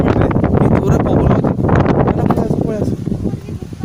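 Strong wind gusting hard against the microphone, a loud roaring rumble that surges and eases over a few seconds, with a person speaking over it.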